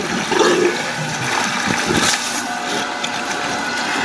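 River water rushes in a constant loud roar, a broad steady wash of sound with no voices.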